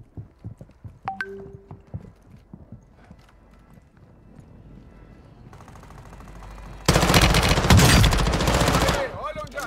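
Loud burst of gunfire in Warzone 2.0 erupting in the last few seconds, dense and sustained after quieter game sounds with hoof-like clopping early on; no talk over it.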